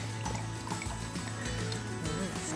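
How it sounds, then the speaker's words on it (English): Wine pours steadily into a glass at a kitchen counter, a faint continuous trickle with no talk over it. "A generous Italian pour."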